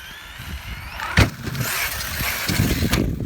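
Arrma Kraton EXB radio-controlled car fitted with DBoot backflip wheels and tires, its motor whining up as it picks up speed, with a sharp knock partway through and a steady, fairly loud rising drone afterward.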